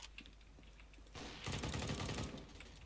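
Gunfire in the video game CS:GO: a quiet, somewhat distant rapid burst of automatic shots that starts partway through and lasts about a second, then fades, over faint background noise.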